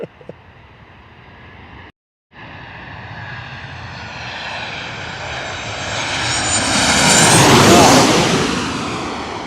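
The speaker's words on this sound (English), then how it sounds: "737 coming on in right now." A Boeing 737 airliner lands at LaGuardia Airport in Queens, its jet engine roar growing louder and closer with a rising whine before peaking near the end, heard outdoors with wind noise.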